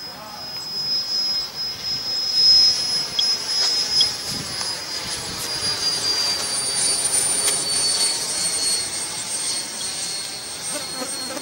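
A Black Horse L-39 Albatros radio-controlled model jet flies on its maiden flight, its turbine making a steady, loud, high-pitched whine that swells and fades slightly as it passes overhead, continuous throughout.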